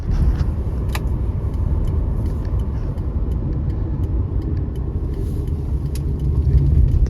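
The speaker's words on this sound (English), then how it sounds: "I'll just let you hear the motor running." A 2002 Acura CL 3.2L engine idling with a steady low rumble, close and continuous, with a few faint clicks and rattles on top.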